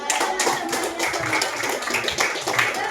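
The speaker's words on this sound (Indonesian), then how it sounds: "Ayo kasih aplaus." Students in a seventh-grade classroom clap for a presenting group, a dense, fairly loud patter of many hands that holds steadily throughout.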